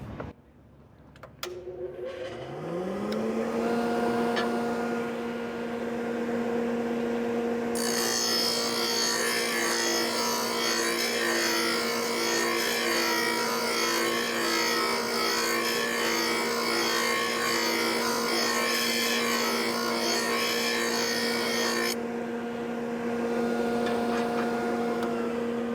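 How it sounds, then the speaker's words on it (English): A Magna Matic sharpener's grinding wheel spins up with a rising whine and then grinds a mower blade at a trade expo booth, a bright, steady rasp over a constant motor hum lasting about fourteen seconds before the wheel runs on alone. "grinding a blade"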